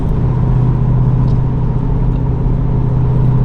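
A 2023 Dodge Durango Hellcat with its muffler deleted idles with a deep, steady exhaust rumble, loud and close, holding an even drone with no revving and no voices.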